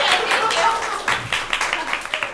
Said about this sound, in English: if you want to applaud for me